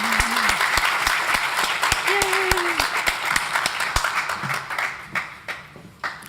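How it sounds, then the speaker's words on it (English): Audience applauding collaborators at an awards event, steady clapping through most of the stretch before thinning into scattered claps at the end, with brief voices and some speech under it. "Please give these collaborators a round of applause."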